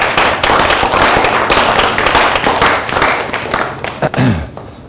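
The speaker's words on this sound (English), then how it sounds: "let's give them a round of applause" A student idea pitch competition audience applauding the judges, dense sustained clapping filling the room for several seconds, loud and close, with a few scattered louder claps near the end.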